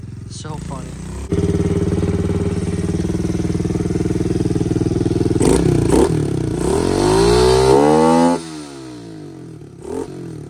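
A 2023 Kawasaki KLX110 dirt bike with a 143cc bore kit, Mikuni VM26 carburetor and BBR U-Flow exhaust starts running steadily, then revs up hard in rising surges before cutting off; brief voices at the edges.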